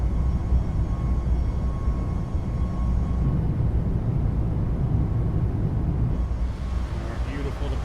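Steady, loud engine roar of a Boeing 737 Max 8 airliner departing in a flight simulator game, a continuous low rumble throughout with no break.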